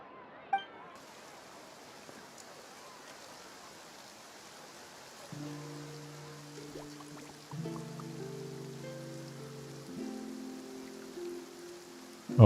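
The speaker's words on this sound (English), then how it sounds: "Oh, it's raining." Rain falls steadily in the Genshin Impact video game, a soft, even hiss throughout, joined halfway through by gentle sustained musical chords.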